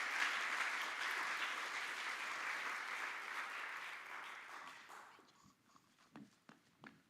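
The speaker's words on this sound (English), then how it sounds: "Please give our first speaker of TEDxQT 2023 a huge round of applause." Audience at a TEDx event clapping for the first speaker; dense, even applause that fades out after about five seconds, leaving a few scattered claps and footsteps.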